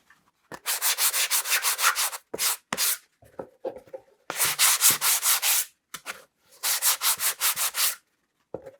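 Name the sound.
sanding a wooden box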